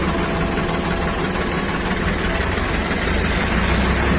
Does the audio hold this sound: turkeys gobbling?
no